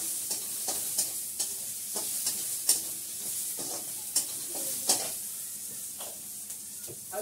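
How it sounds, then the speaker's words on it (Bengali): Onions and cumin seeds fry in a hot pan, a steady close sizzle broken by repeated scraping stirs, with no voices. "ভালো করে লাল করে ভেজে নিই।"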